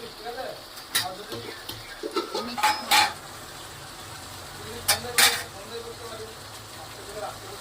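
Chicken and potatoes sautéed and stirred in a pan with a spoon for a Bengali-style chicken curry, giving scattered scraping and clattering strokes and soft sizzling, fairly close, with a few sharp clanks and no talk.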